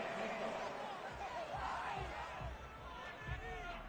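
A home crowd cheers a referee's call in the video game Madden 22, a diffuse roar of voices and whoops rising and swelling in the background with low thumps underneath.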